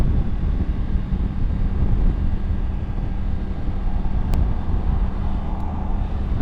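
Continuous heavy wind buffeting roars against the rider's helmet and chest on a 2023 Triumph Tiger 900 Rally Pro motorcycle, a dense steady rush masking the engine.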